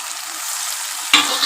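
Pointed gourd in a poppy-seed and mustard paste is stirred in an oiled pan, giving a steady close sizzle with a brief scrape and louder hiss near the end.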